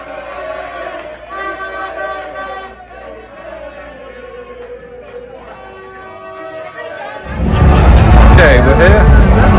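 A stadium crowd gathering before a football match in Medellin, Colombia, a murmur under nearby voices that swells abruptly into loud, dense roaring and shouting for the last seconds.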